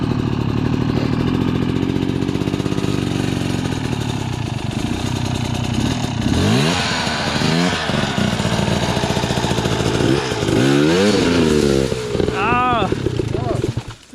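A dirt bike engine on a trail revs and bogs in loud, rising and falling bursts at close range, over an uneven idle, while a person talks over it.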